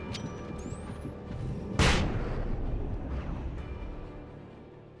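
Flashbang going off in the Alan Wake video game, one sharp loud bang that decays into a long rumbling tail over a steady background drone, preceded by a rising whistling tone.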